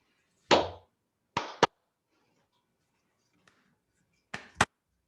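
Hand claps setting a simple rhythm: a single clap, then a quick pair, a faint tap, and another close pair, sharp and near against silence.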